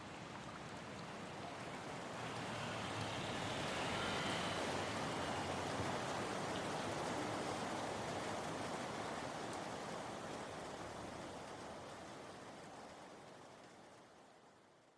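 Steady rain at night gives a broad, even wash of noise for the whole stretch, swelling slightly in the middle and easing toward the end, with no voices.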